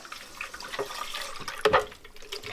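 Water splashes and trickles briefly into a cooking pot holding Good King Henry greens, a short running pour with a brighter gush near the end, close by.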